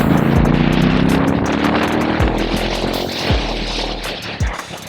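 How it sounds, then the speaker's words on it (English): A Royal Enfield Super Meteor 650 with an aftermarket exhaust drones steadily at 120-130 km/h, a throaty hum with wind noise, rising and falling slightly as it rolls along. "that AEW exhaust adds a rich, throaty soundtrack that makes every overtake feel cinematic."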